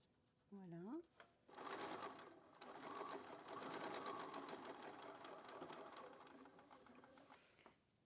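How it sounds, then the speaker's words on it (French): Domestic sewing machine stitching grosgrain ribbon edge to edge with fabric, a steady rapid mechanical whirr running for several seconds after a brief start, with a voice speaking quietly at the beginning. "je mets bien mes tissus, mon gros grain bord à bord"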